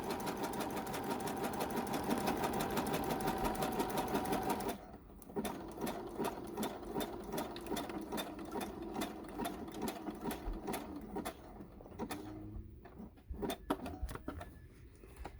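A sewing machine runs in one steady, dense buzz, then switches to short quick bursts of stitching with brief pauses between them, close and fairly quiet.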